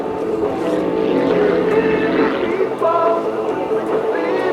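A Pitts S2B aerobatic biplane's propeller engine drones loudly at an airshow, its pitch wavering as the plane maneuvers through low-speed aerobatics in hot, high-density-altitude conditions, with crowd or commentary sound mixed in.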